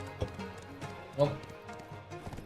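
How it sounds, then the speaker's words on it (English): Horse hooves clip-clop in a video game as a rider mounts and travels, a steady patter of hoofbeats mixed with game sounds and a voice talking over them. "that's a nice one where you take the horse and you like get on the horse"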